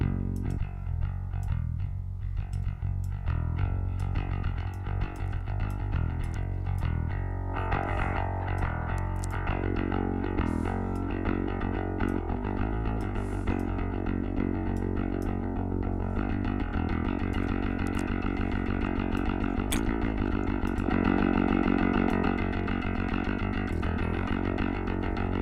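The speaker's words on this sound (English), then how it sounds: "It's basically like a 3-band saturation and distortion with included clipper, and you can denoise some stuff." A three-band saturation and distortion plugin with a built-in clipper is switched on over a dense, sustained music track, giving a thick, gritty, compressed tone that plays continuously at steady loudness with no talk.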